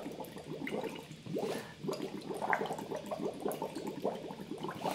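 Water is sipped through a straw with soft, bubbly gurgling and slurping that continues unevenly for several seconds, close but quiet, with no talking.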